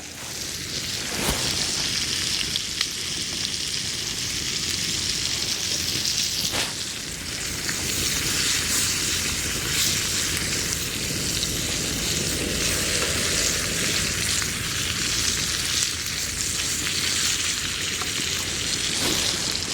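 Steak strip sizzling over coals inside a hot tent, a steady bright frying hiss with faint crackles and occasional sharp pops, continuous and close throughout.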